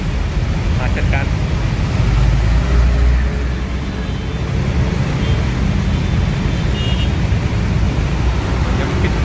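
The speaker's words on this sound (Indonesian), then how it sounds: "Macet panjang ini." Dense road traffic jammed at a red light at an airport junction, a steady low engine rumble and roadway noise with a louder passing swell, under a voice talking throughout.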